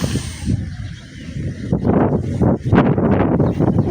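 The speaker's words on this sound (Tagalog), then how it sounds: "Sobrang lakas ng hangin." Strong wind buffets and roars against the microphone throughout, with gusty rumbling surges growing louder toward the end.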